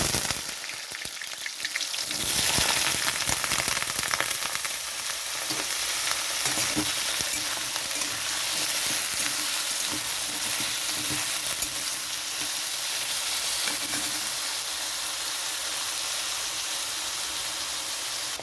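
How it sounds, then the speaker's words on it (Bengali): Potatoes with green chillies fry in hot mustard oil, giving a loud, continuous hiss and crackle after a short quieter start, with occasional stirring knocks throughout. "তো এখানে আলুটা ভাজা হয়ে গেছে"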